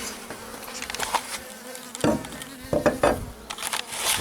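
Honeybees buzz around a small hive box fitted with one-way escape valves, their drone swelling and fading as individual insects fly close past, with occasional soft taps against the wood.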